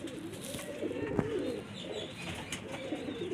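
Golden pigeons of a single breed coo softly in a loft, low murmuring calls rising and falling continuously at close range, with faint chirps and background rustle.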